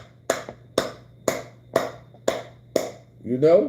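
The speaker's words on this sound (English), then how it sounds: "I give them a hand clap on that." Six sharp, evenly spaced hand claps ring out loud and close, about half a second apart, over a low steady hum, followed by a short burst of talking.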